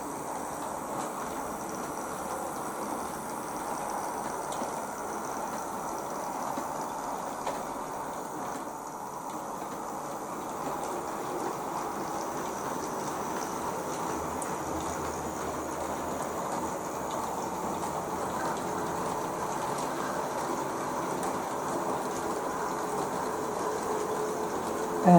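A Bachmann Class 08 model locomotive runs slowly along the track, giving a quiet, steady mechanical whir and rumble that continues unbroken throughout with no talking.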